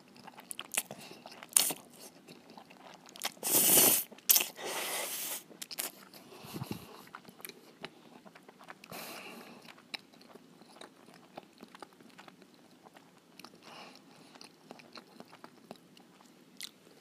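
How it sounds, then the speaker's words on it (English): Close-up eating of Jollibee Jolly Spaghetti, with wet slurps and chewing bursts clustered early, a loud crunchy burst near the start, then quieter intermittent mouth sounds and clicks, no talking. "Let's do a close-up audio of the slurping noises."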